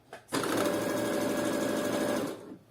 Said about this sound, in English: So to the sewing machine. So I'm going to use a straight stitch here